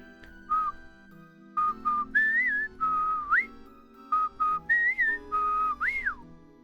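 Person whistling close into a microphone, a series of clear tonal phrases with rising slides and short pauses between notes, loud and alone without talk.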